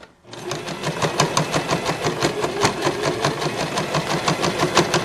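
Sewing machine stitching nylon fabric for a milk-carton toiletry bag, starting abruptly and running in a fast, steady mechanical rhythm of needle strokes, close and continuous, with no voices over it.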